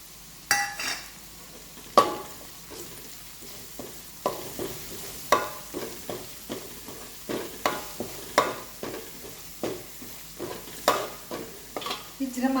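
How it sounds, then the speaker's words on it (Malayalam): Kanthari bird's eye chillies stirred as they fry in a pan, a spoon scraping in repeated strokes about once a second over a steady soft sizzle, close and clear with no voices. "അതിൻ്റെ ആ പച്ച മാറുന്നിടം വരെ നമ്മളൊന്ന് ഇളക്കിയെടുക്കണം."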